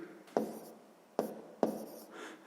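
A pen or pencil writes out a math problem on paper: three short, close strokes scratch and tap against the page, separated by brief quiet gaps.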